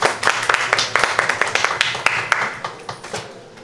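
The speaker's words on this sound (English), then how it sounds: "Please give a round of applause." A small book-launch audience gives a short burst of sparse, distinct hand claps, close and fairly loud, that thins out and fades toward the end.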